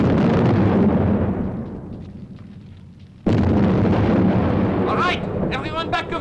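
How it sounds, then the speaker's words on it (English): Dynamite blasts in a mine, heard as a loud, broad rumbling burst that decays over about three seconds, then a second sudden, loud blast with more rumbling after it, and a voice briefly heard near the end. "Ready for an explosion!"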